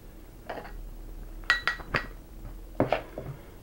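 Glass jars clink sharply against each other and a hard surface in a scattered series of bright, ringing taps, close and fairly quiet, while shallot liver sausage is packed into them.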